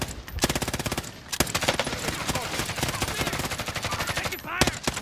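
Rapid machine-gun fire in a video game rattles in dense, continuous bursts for several seconds, with a few sharp louder shots near the start and end, loud and close.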